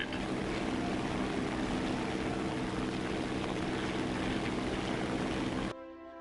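A propeller aircraft engine at full throttle in War Thunder, a loud, steady droning roar with a dense buzzing texture that holds without a break, then cuts off abruptly near the end.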